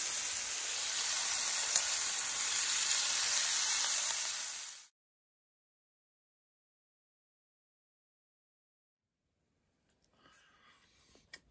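Fatty bacon sizzles in a pan in a shed, a steady fizzing hiss lasting several seconds before cutting off to near silence, followed by faint clicking handling noises.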